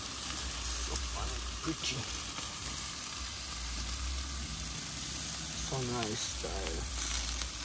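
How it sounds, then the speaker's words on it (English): Festival dumplings frying in hot oil give off a steady, soft sizzle that runs throughout, heard under brief casual talk and some background noise. "Fry some festival."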